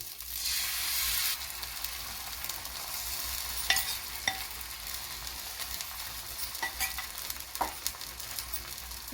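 Beaten egg frying in a pan for a Bengali-style omelette, sizzling steadily with a loud burst as it first hits the hot oil, then settling into a softer crackle broken by occasional sharp pops and light stirring taps.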